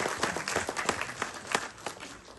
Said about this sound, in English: So yes, you do deserve a round of applause for that.